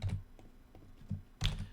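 Computer keyboard typing during a Yu-Gi-Oh livestream, a few soft scattered keystrokes with a louder cluster of clicks near the end, close and quiet with no talk.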